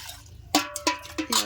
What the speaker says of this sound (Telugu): ఆ నీళ్ళు వంచేసి ఇప్పుడు మళ్ళీ వేరే నీళ్ళు పోసుకొని